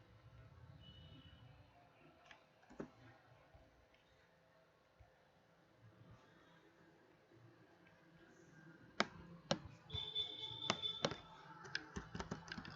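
Computer keyboard typing: sparse, quiet key taps early on, then a denser cluster of sharp clicks near the end over a low room hum.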